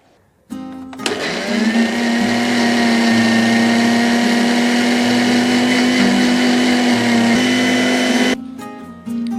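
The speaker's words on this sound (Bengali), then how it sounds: "আমার মশলাটা ব্লেন্ড করা হয়ে গেছে।" An electric blender whirs loudly and steadily for about eight seconds as it grinds spices with coriander leaves, sugar and roasted cumin powder for a barbecue salad, starting abruptly and cutting off sharply, with no talking.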